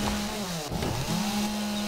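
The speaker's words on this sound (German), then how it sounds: "In der Hocke geht's leider nicht mit der Kettensäge" Chainsaw in the video game 7 Days to Die, a continuous buzzing engine whine that dips briefly mid-cut before resuming, close and loud.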